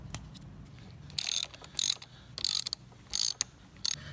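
Ratchet wrench breaking loose the 8mm carburetor bolts on a Harley-Davidson AMF Shovelhead Lowrider, five short bursts of quick metallic clicking separated by brief pauses, close up and fairly quiet, with no talking.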